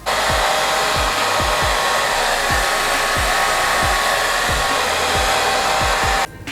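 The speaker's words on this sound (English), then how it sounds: "Then I'm going to get a blow dryer and I'm going to dry it mostly" A loud, steady hair dryer roars throughout while drying hair during a wig install, with regular low thumps as it is moved about, then it cuts off at the end.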